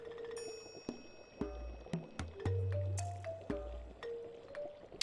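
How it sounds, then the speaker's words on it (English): A cauldron bubbles in the Stardew Valley video game, soft squishy pops and drips sounding in an irregular series, some close and clear, with low thuds between them. "My cauldron is bubbling from the ingredients from the forests."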